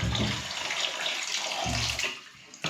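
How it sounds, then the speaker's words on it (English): Water gushing and splashing out of an iron pipe radiator during a radiator swap, a steady loud rush that eases briefly before surging again. "Quite a bit of water there."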